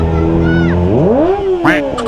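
Kawasaki ZX25R inline-four sportbike engine revving loud and close, pitch holding, then sweeping up in a smooth rising wail before dropping, with a voice speaking over part of it.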